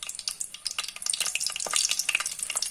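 Ingredients for a vegetable sambar sizzle and crackle as they fry in a pan, with steady bright spattering and occasional stirring scrapes, close and fairly loud without any voices.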